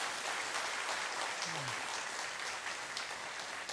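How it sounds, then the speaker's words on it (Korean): A church congregation at an ordination service applauds, a dense, even wash of clapping sustained throughout, with a brief voice underneath. "여러분 한번 박수로 여러분께서 축하해 주시기 바랍니다."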